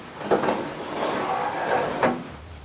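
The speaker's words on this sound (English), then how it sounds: "And put that outside door latch in. It just slips in." An outside door latch on a rat rod door slides into place in the metal door shell, with a couple of sharp clunks and a scraping slide between them, close up and alone.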